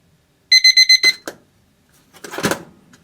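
Four quick electronic timer beeps sound loud and close, followed by a short clack and then a brief scuffling rustle, during a propane system pressure check on an RV.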